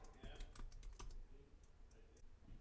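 Rapid typing on a computer keyboard while entering poster text in Photoshop, a steady run of light clicks with short pauses, close and fairly quiet.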